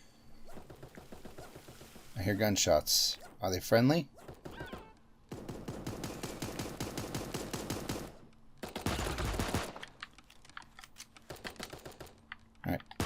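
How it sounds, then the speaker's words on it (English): Rapid bursts of gunfire in the video game Super Animal World crackle in clusters between quieter stretches, with a voice talking over parts of it. "I hear gunshots."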